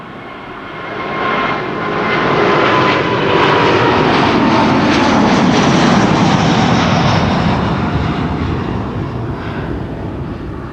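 A Boeing 787 Dreamliner jet, flight 8079 to Sao Paulo, passes at Amsterdam Schiphol Airport, its engine roar building loud and broad, peaking mid-pass and then slowly fading, with no voices.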